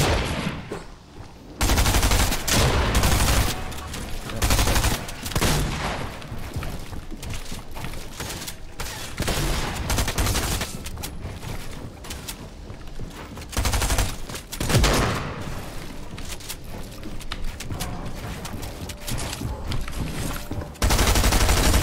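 Video game gunfire, including a gray auto shotgun and a heavy shotgun, rings out in dense, rapid bursts. Loud shots come in clusters with brief gaps, going on almost without a break.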